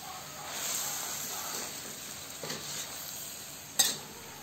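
Sprouted mung beans and pork are stirred in a pan, with a soft sizzle and scraping strokes, a few brief clatters and one sharp knock near the end, heard close up.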